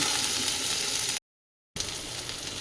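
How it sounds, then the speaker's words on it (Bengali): Ginger sizzling and being stirred in a pan while cooking potol posto, a steady close frying hiss that cuts out briefly, then resumes. "আদাটা দিয়ে এই যে নাড়াচাড়া করছি"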